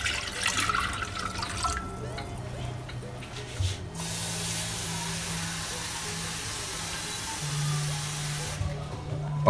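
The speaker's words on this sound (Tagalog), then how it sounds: "Lalagyan na po natin ng tubig." Water runs and splashes into a cooking pot for boiling, several seconds in a steady stream with short pauses, while someone talks nearby.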